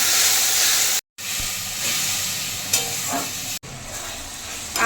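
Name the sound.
ginger garlic green chili paste frying with onions and potatoes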